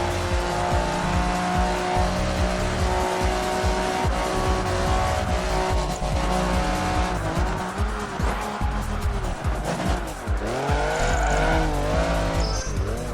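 Race car braking in Project Gotham Racing 3, with a loud sustained engine drone and squealing tires that pitch down and shift as the car slows through a section, heard without talk.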